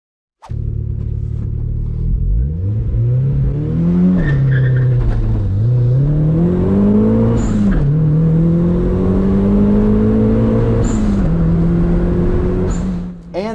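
A 1.6-liter turbocharged Mazda Miata launches hard in first gear and bogs briefly after the clutch is dumped, then its engine drone climbs loudly and steadily through several rising pulls with short dips at each shift.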